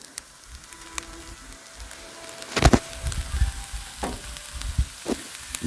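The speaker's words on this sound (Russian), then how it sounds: "Теперь разогреваю рис." Rice is reheated in a pan on a titanium camping stove beside Lake Seliger, giving a soft sizzle with irregular scraping and stirring knocks, close and steady without talk.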